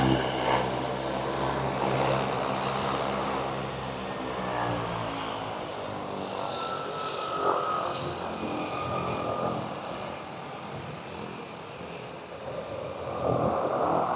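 A floatplane takes off from the water in Victoria, British Columbia, its propeller engine droning steadily and building, sustained and loud with a broad rumbling tone throughout.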